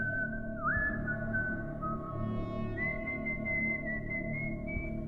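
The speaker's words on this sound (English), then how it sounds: "I was almost asleep when I heard whistling outside." Slow, broken, off-key whistled tune outdoors at night, a single whistler holding wavering notes that slide up and down, faint and alone over a quiet low hum.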